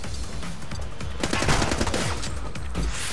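Rapid gunfire from the video game The Club, a dense burst of overlapping automatic shots that swells in the middle and continues to the end, close and loud.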